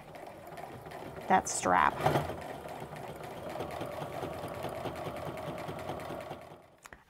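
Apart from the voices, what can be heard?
sewing machine stitching apron fabric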